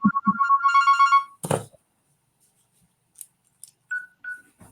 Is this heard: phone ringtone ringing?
yes